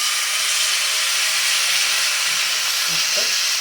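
Bajra (pearl millet) flour dhirde batter sizzling in hot oil on a griddle: a loud, steady, close hiss throughout, with faint low clinks near the end.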